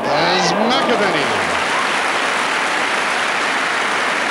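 A football crowd at a Celtic v Dundee match breaks into loud, dense applause and cheering that fills the whole stretch. A shout rises and falls at the start.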